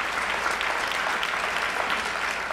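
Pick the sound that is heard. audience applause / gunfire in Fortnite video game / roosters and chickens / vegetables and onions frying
audience applause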